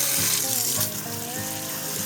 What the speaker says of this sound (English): So this is our beans. I'm going to wash it.